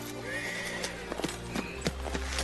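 A horse whinnies over a steady low rumble, and a few scattered hoof clops follow. The call is moderately close but not loud.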